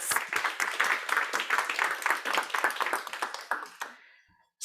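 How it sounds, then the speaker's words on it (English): Audience applause for a speaker at a talk on making cities wilder, a dense burst of clapping that slowly thins out and fades to near silence at the end. "So an applause again for Laura."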